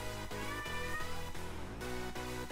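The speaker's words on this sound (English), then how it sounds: "So my cat likes to yell" A house cat yells in a string of loud, close meows, about five or six insistent cries in quick rhythm, with no voices over them.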